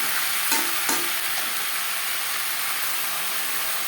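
Potato pieces being mixed with spices in a pan for a Bengali-style fish curry, a loud, steady sizzle and hiss with a few brief scrapes of the spoon near the start, close up and without talking.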